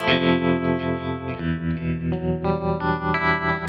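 Electric guitar played through a tremolo effect, with sustained distorted chords that wobble in a steady rhythmic pulse, loud and close with no voices.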